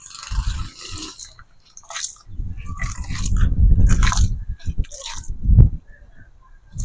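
Grated coconut squeezed by hand to extract first and second coconut milk, with close, wet squishing bursts and dripping liquid separated by short pauses.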